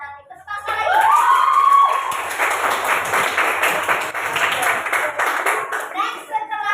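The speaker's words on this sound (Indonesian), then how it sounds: "Tepuk tangan lagi" Applause and clapping from a group at a guiding session, starting after a brief voice and holding fairly loud, with some talk and a voice mixed in.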